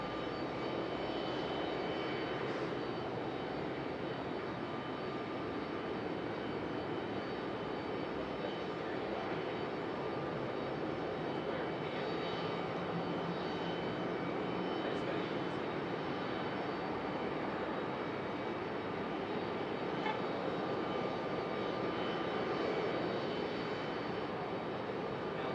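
A jet airliner on Flight 3219 approaches Raleigh-Durham International Airport, making a constant, moderately distant engine drone with a faint steady hum running through it and no break in the sound.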